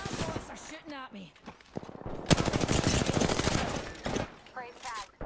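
Gunfire in a sci-fi video game with shields and replicators: a fast burst of rapid shots dominates the middle, surrounded by shorter electronic blasts and game effects.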